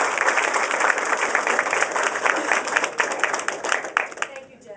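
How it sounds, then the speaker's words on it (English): A crowd at a National Night Out proclamation event applauds Harris County law enforcement officers, dense sustained clapping that fills the room and tapers slightly near the end. "let's give an applause to all the law enforcement officers in Harris County"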